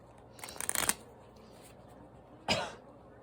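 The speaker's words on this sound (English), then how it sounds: "Shuffle some cards and get some more cards." Tarot cards being shuffled in two separate bursts, a riffling flurry lasting about half a second and then a shorter snap a couple of seconds later, close and fairly crisp in a quiet room.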